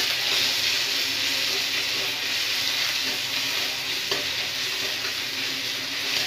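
Onion and garlic sizzle steadily in a pan for a fish curry, a continuous close frying hiss with no talk.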